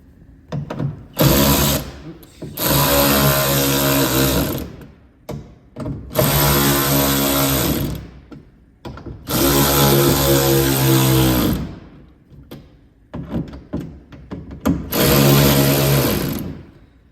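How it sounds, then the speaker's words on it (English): A power drill whines loudly in several long bursts, stopping and restarting between runs, with brief pauses and a little talk in the gaps. "you take a 5/16" drill bit, drill through the plastic fender liner"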